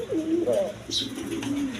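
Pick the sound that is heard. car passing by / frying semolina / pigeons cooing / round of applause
pigeons cooing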